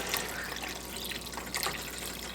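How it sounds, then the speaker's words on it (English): Water pours steadily into a pot of homemade chicken soup, a continuous splashing rush heard close up with no talk. "I think I'm going to add some water."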